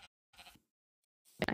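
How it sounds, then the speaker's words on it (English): Cows in the video game Minecraft being attacked, giving short, separate moos and grunts with silent gaps between them, ending in a louder, closer cry. "Cows! But killing cows."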